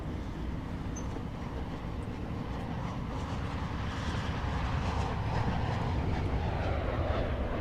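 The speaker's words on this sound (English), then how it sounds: "As you can hear the aircraft going over." An aircraft passes overhead in Train Sim World 3 as a ThamesLink Class 700 train approaches a station, a steady broad rumbling roar swelling slightly, blended with train running noise, no talk.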